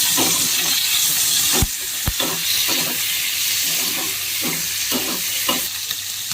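Cleaned mutton liver fries loudly in a pan while a spoon stirs it, with a constant close sizzle broken by scraping strokes and a couple of sharp clanks against the pan. No one talks.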